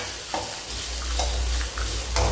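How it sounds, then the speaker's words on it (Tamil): Grated coconut sautés in a hot pan, a soft steady sizzle with a few scraping stirs of a spoon across the surface, close and unaccompanied by talk. "இப்போ தேங்காய் லேசாக வதக்கிட்டு"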